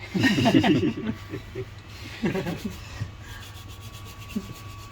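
A brush scrubs dirt off an electronics logic board in short, scratchy rubbing bursts close by, mixed with someone talking and chuckling.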